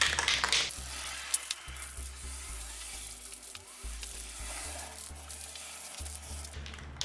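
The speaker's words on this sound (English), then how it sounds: "spray paint this side" A steady hiss of spray primer from an aerosol can coats one side of a DIY letterboard, running continuously for several seconds over a low background hum.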